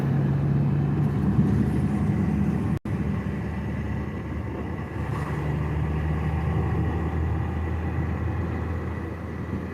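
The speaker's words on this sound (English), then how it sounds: "Trying to avoid traffic." Road traffic in Lexington, Kentucky, a continuous low engine drone and tire rumble that holds steady throughout, with one brief dropout partway through.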